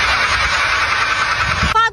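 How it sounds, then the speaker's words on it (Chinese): A car engine running with an abnormal noise from a worn bearing shell, a steady close mechanical whir and hum that cuts off abruptly near the end, where a voice briefly speaks. "发动机轴瓦异响"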